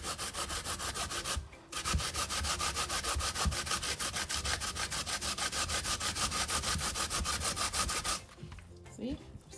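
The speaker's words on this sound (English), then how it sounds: "But I am gonna grate. I'm grating now." Sweet potato being grated by hand for pudding, a continuous rhythmic rasping scrape, close and steady, with a brief pause early on and a stop near the end.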